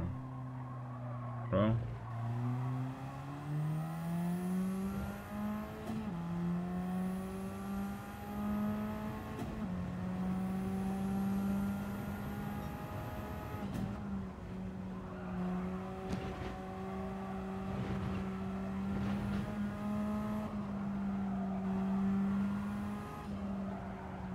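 A race car slides sideways at Fuji in a racing video game, its engine droning and shifting pitch while tire squeal and skidding run through the sustained, moderately quiet game audio.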